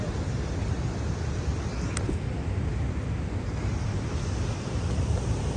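Steady rushing water from a mountain waterfall and stream near a forest, a continuous broadband roar with no pauses, loud and close, with wind buffeting the microphone.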